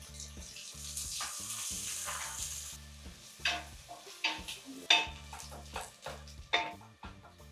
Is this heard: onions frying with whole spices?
yes